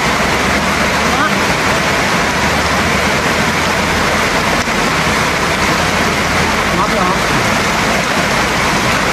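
Heavy rain pours down in a steady, loud, broadband hiss that fills the whole stretch, with a few voices talking briefly over the downpour.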